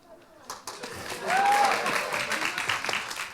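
An audience at a benefit concert claps, building quickly into a short burst of applause with scattered cheers and voices mixed in.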